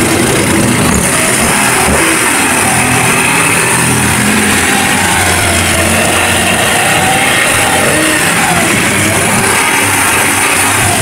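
Toyota Wigo engine running steadily during a preventive maintenance check at a service station, a continuous loud hum and whir with broad hiss, no voices heard.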